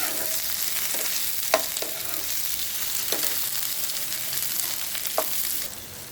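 Cut brinjals fry in hot oil with a steady, even sizzle, broken by a few quick spatula knocks against the pan as the pieces are stirred.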